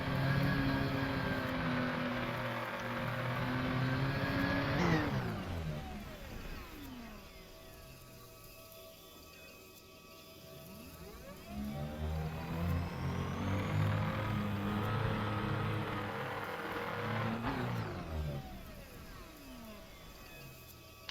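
Car engine in a space video game revving up and down in two long swells, pitch climbing then dropping away, fairly loud and alone.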